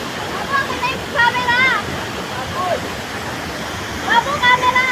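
Rushing water from a waterfall fills the scene as a steady broadband roar, with people talking and calling out over it at several points.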